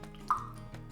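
A single drop of water softener regeneration agent falls into water, giving one clear, close plop amid a quiet room murmur.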